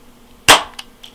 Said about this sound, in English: Now we can move on to a brief demonstration of firing.